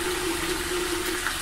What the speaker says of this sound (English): So we'll go ahead and run this water.